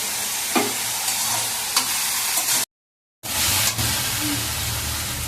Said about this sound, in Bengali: এবার শাকটাকে একটু নাড়াচাড়া দিয়ে ঢাকা দিয়ে রাখবো